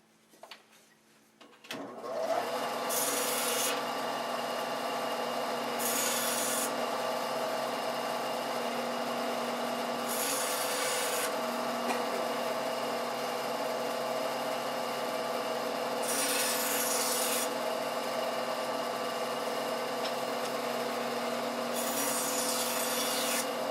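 Scrap half-inch wood being cut into small leveling wedges, a steady loud rubbing, rasping cut that runs continuously after a brief start, with periodic brighter bursts of harsher scraping.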